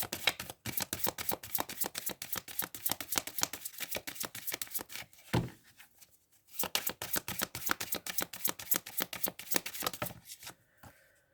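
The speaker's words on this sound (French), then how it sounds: "Je vais vous tirer une autre carte ici." Tarot cards are shuffled and drawn close up: long runs of rapid, crisp riffling flutters, broken by a brief pause and a single card being pulled out, then the riffling starts again.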